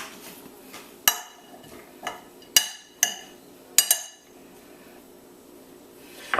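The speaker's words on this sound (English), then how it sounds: "I'm going to give it a quick stir." A spoon clinks against a bowl while salt fish buljol with hot olive oil is stirred, several sharp metallic taps spaced irregularly between quieter scraping.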